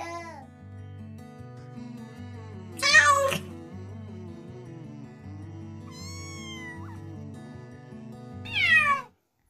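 A cat meows a few times, two loud drawn-out cries near the start and end with a softer one between, over a bouncy children's phonics song with music playing underneath.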